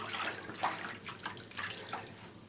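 Water is poured quietly into a container for bread dough, with soft, uneven splashing and trickling.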